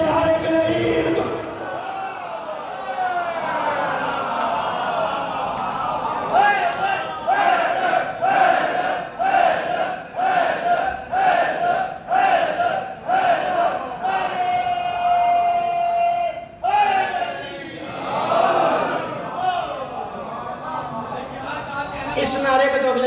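A crowd gathered at a majlis in an imambargah chants a slogan in loud rhythmic unison, the massed voices rising and falling in repeated bursts over about twenty seconds.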